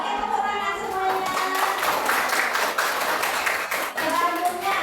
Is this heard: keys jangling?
no